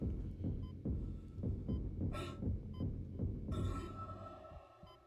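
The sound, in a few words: heartbeat sound effect in Dead Space video game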